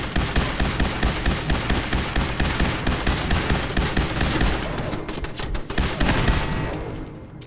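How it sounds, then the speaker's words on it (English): Rapid sustained gunfire in the Fallout 4 video game, dense automatic bursts and overlapping shots hammering loudly and continuously before tapering toward the end; no talk. "What are you shooting at now?"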